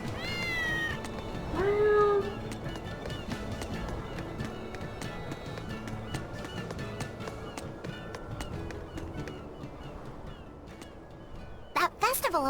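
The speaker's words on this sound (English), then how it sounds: "Kitties." Cats meow in the video game Tales of Berseria, a couple of short rising mews early on, set against steady game music and ambience, with people talking over parts of it.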